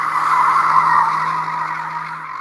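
Tires on a VW Lupo skid and squeal in one loud, sustained screech that fades slightly toward the end, with no talking.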